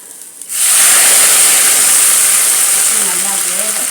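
Pumpkin kootu sizzles loudly in a pan just after water is sprinkled in, a sudden burst of steady hissing and spitting that stays strong and close, with faint sounds of moving around the kitchen beneath it.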